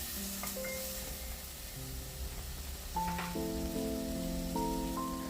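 Chicken frying with turmeric and garam masala powder for a palak chicken dish, a soft continuous sizzle with a few crackles beneath sustained musical tones.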